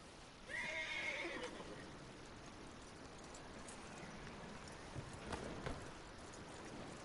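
A horse in Red Dead Redemption 2 whinnies loudly near the start over a steady, noisy background, with faint hoof movement later.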